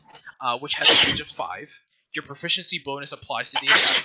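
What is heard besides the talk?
sneeze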